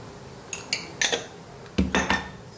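A spoon scrapes and clinks against a bowl while mixing turmeric, chili powder and salt, making several short close taps and scrapes in two bursts with quiet pauses between.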